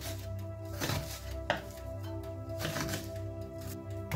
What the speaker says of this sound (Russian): И нарезаем ее на некрупные кусочки.